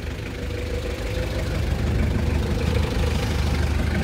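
A Daewoo Matiz petrol engine idles steadily close by, a low continuous rumble with a faint mechanical tick running evenly throughout and no voices.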